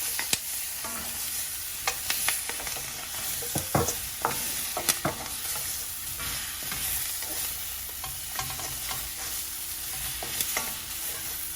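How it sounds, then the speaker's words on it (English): Salt and pepper ribs fry steadily in a pan, a dense continuous sizzle broken by scattered sharp pops and scraping stirs, close and fairly loud with no talking. "I'm just going to toss back in my ribs in the pan like so"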